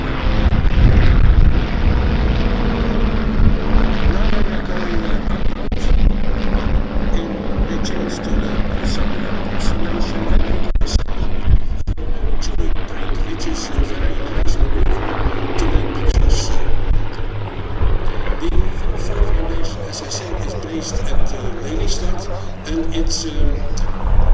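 A Fokker S-11 propeller aircraft flying at the Duxford summer air show, a loud sustained engine drone that swells and fades slightly, heard with voices talking over it.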